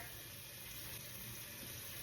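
Water runs steadily from a tap while someone washes their face during a makeup routine, a soft, continuous hiss with no pauses or talking.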